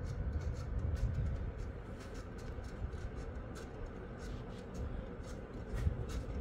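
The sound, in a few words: ceiling fan bearing noise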